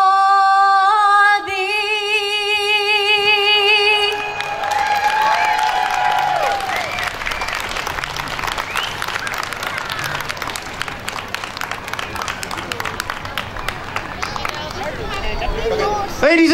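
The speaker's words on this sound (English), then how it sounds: "Ladies and gentlemen, a round of applause for our color party representing our youth in our community and the Lions Club of Barrhaven." Outdoor crowd applauding the colour party at a Canada Day flag ceremony in Barrhaven, with sustained clapping and crowd murmur that follow the end of a sung anthem.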